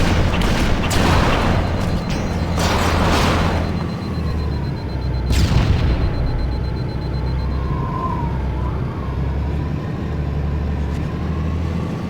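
Weapon fire in the Halo level Silent Cartographer, heavy booming bursts near the start and again around the middle over a constant low engine-like rumble, loud and close with no talking.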